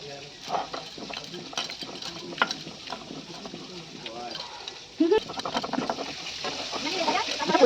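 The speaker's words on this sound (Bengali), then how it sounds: "পটলগুলো একটু লাল লাল করে ভাজতে হবে" Pointed gourd (potol) fries in a pan and is stirred, soft sizzling with intermittent scraping and clinking strokes of the spatula, close by, with voices talking over it.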